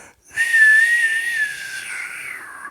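A person whistles a single sustained, fairly loud high tone that holds steady for about a second, then dips slightly and carries on more softly, close up and alone.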